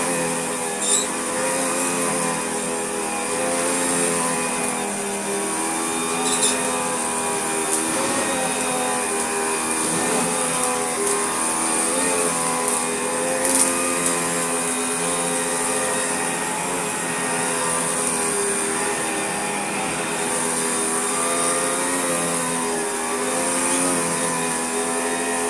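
A Hotpoint Light&Easy vacuum cleaner runs continuously with a buzzing, two-stroke-like motor drone and high whine, steady and close throughout with small fluctuations and no talking.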